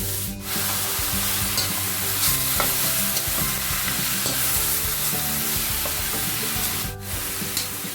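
Chicken sautéing in a pan for a spicy coconut-cream dish gives a steady close sizzle and frying crackle, with stirring and scraping throughout.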